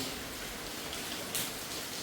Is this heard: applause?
no